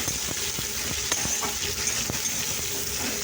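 Small cut tomatoes fry in a pan, a soft continuous sizzle and hiss with a few light stirring scrapes scattered through, heard close and fairly quiet with no talking.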